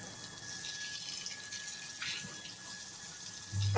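Water runs while a scooter is being washed, giving a faint, steady splashing flow with a low hum underneath that grows slightly louder near the end.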